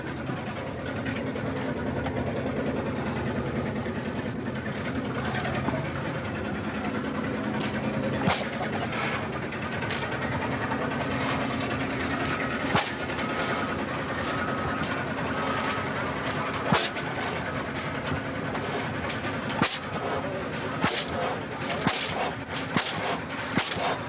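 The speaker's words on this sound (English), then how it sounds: "This 15 horsepower Mogul gas engine is the first one off the line." An antique International Harvester 15 horsepower Mogul gas engine runs with a steady chugging drone, punctuated by sharp periodic firing bangs at irregular intervals over about 24 seconds, with no talk.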